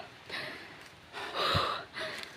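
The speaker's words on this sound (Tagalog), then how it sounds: "Hinihingal ako." Heavy, audible panting from a hiker after climbing a steep uphill trail in a forest, with a few loud breaths in quick succession, close to the microphone and without speech.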